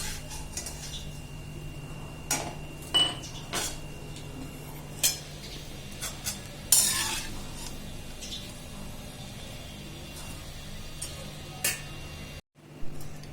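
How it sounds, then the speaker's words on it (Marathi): Garlic crushed with the handle of a mortar and pestle, a series of sharp, irregular knocks and taps, close and clear over a low steady hum, ending in a brief silence and one last thump. "नंतर असं खलबत्तीच्या दांड्याने ठेचायचं आपल्याला असं सगळं ठेचून घेते"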